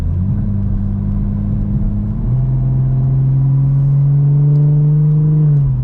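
A BMW M240i with a Gepard full titanium exhaust drones steadily as the engine holds low revs, its deep exhaust tone rising slightly and staying loud and close, with no talking.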